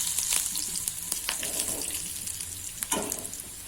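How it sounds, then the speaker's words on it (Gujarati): Mustard seeds, whole cumin and curry leaves crackle and sizzle in hot oil over a very low flame, with steady frying hiss and sharp popping spikes throughout, close and clear with no talking. "ત્યારબાદ 1 ચપટી આપણે રાઈ નાખીશું અને 1 ચપટી આખું જીરું. લીમડાના પાન નાખી દઈશું."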